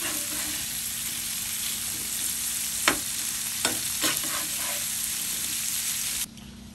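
Prawns fry in a pan and get turned, a continuous close hiss of oil with a few sharp scraping clicks as they are flipped, ending abruptly as the sizzle cuts off.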